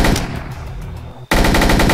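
Automatic gunfire from S.T.A.L.K.E.R. Call of Pripyat rattles in rapid, loud bursts that break off briefly and then resume at full intensity.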